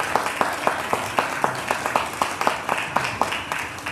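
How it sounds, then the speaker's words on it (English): Panelists at a conference on functional recovery and reconnaissance data receive applause, with a few distinct, rhythmic hand claps standing out close over a softer spread of clapping. "Let's give these panelists a round of applause."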